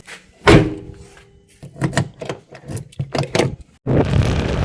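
Mahindra Bolero SUV after parking: a solid door thunk, followed by scattered handling clunks and rattles, then a louder steady rumble near the end.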